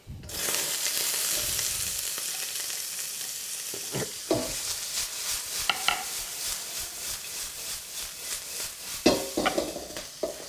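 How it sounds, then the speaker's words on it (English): Sweet and sour sauce hits a smoking hot wok and sizzles loudly and steadily, with intermittent scraping and clanking stirring strokes against the metal. "We're seriously stir frying now. Smoking hot wok, sauce goes straight in"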